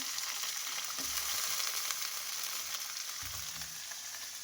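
Sweet potato, beans, potato and aubergine fry in oil with bay leaf, giving a continuous bright sizzle with a few soft low stirring bumps, close and steady, with no voices.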